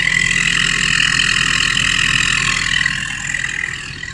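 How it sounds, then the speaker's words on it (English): A car fitted with an aftermarket turbo whistle sits at idle while a steady high chirping whistle rides above the low engine hum. It stays loud and constant, then eases slightly toward the end. "So already you hear the chirping. That's it at idle."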